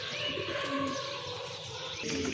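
High flyer pigeons coo in a busy cluster, several overlapping low, burbling calls close by over a dense background of chatter from other birds, with no speech.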